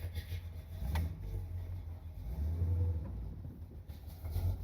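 A 1981 Corvette's engine rumbles low and close from inside the car, swelling as it accelerates through first and into second gear, with a brief dip between gears and no talking.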